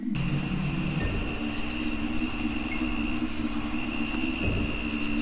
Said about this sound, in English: The incessant buzz of insects.